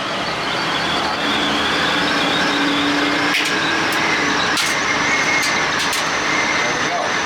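A 1995 Chevrolet G20 van with a 4-speed overdrive transmission pulls away on a test drive, its engine and road rumble steady and close while someone talks over it, with occasional clicks and knocks.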